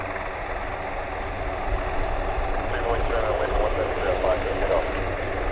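Broad steady engine roar from a C-130 aircraft lining up on an airfield runway, heard from a distance as a continuous rumbling drone that swells slightly midway.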